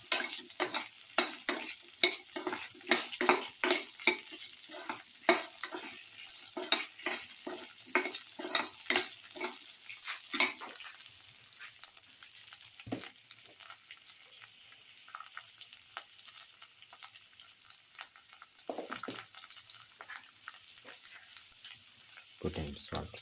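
Okra and tomato casserole stirred in a pan as salt is mixed in, with a rapid run of scraping spoon strokes over a steady sizzle that later thins to scattered taps and clinks.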